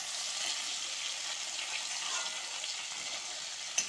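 Chicken for chicken rolls fries in a pan with a soft, even sizzle and crackle. The sound is fairly quiet and continuous, and a small clink comes near the end.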